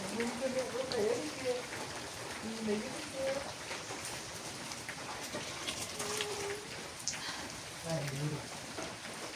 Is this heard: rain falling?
yes